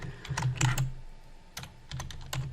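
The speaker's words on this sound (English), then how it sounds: "I'm going to type in whatever text I want to and hit Control A to select all of it." Fingers tap out text on a computer keyboard while laying out a laser-engraved keychain design, two quick bursts of close, crisp key clicks separated by a short pause.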